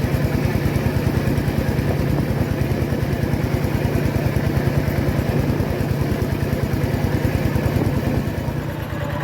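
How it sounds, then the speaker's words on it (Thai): A small engine water pump running steadily while draining a fish pond, a loud close-up rapid putter with an even mechanical rhythm that holds constant for several seconds before easing slightly at the end. "ก็ต้องใช้เครื่องเล็กนะครับ มาช่วย สูบออกนะครับ"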